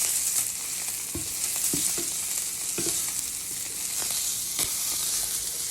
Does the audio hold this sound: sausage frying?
yes